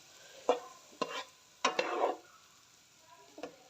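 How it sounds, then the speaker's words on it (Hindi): Stirring in a pan: a few scraping strokes with a soft sizzle of onion softening in butter beneath, close by, with quiet pauses between strokes. "बस थोड़ी देर हमने इसमें मक्खन में नरम करना है प्याज।"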